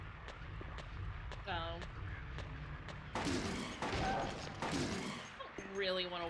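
Gunfire bursts from the Silent Hill 2 video game, a few loud shots spaced a couple of seconds apart, over a dark droning ambience with a voice talking at times.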